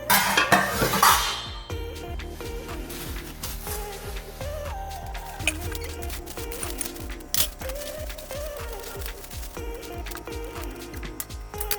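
A heavy 18/10 stainless steel induction pot clanks and knocks as it is handled, with a loud metallic clatter at first, then scattered lighter clinks and scrapes throughout.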